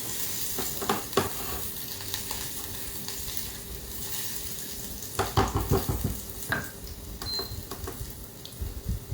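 Garlic, ginger and dried red chilli fry in hot oil, giving a continuous close sizzle with scattered clinks and stirring scrapes, stronger bursts of utensil movement toward the end, and no voices.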